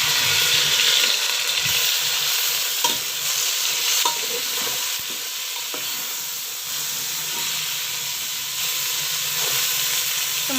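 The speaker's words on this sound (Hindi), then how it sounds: "अब हम इसके अंदर टमाटर ऐड कर लेंगे" Tomatoes hiss and sizzle in a pan of browned onions while a spoon stirs them with soft scraping, a loud, steady frying sound with occasional small clicks and no talking.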